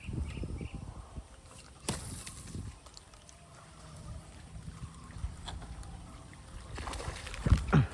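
Quiet outdoor scene on water with soft paddle splashes and knocks against a small boat, faint wind in the background, no talking.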